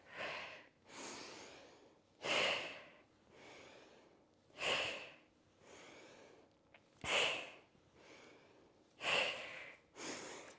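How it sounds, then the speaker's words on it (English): Slow, deep breaths from a guided strength workout warm-up, with several long exhales blown out through the mouth alternating with quieter inhales, close and alone, in an even rhythm. "exhale through the mouth"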